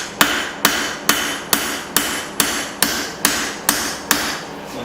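A straight peen hammer strikes a Bowie knife blank during forging, about ten evenly spaced sharp metallic blows ringing out close and loud in a steady rhythm.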